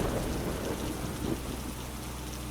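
Steady heavy rain falls continuously with a low rumble of thunder underneath, dense and even throughout with no voices.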